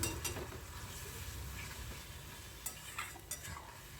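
Ground spices, including turmeric and Kashmiri red chili powder, are stirred and sautéed with water and oil for a Gang Morla fish curry. The stirring is quiet and steady, with a soft sizzle and a few sharper clinks of the spoon.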